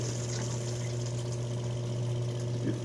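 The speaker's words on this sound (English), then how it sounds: "open the valve very slightly." Water flows through an SDI tester with a booster pump as its valve opens slightly, giving a steady rushing, gurgling stream over a constant low mechanical hum with no talking.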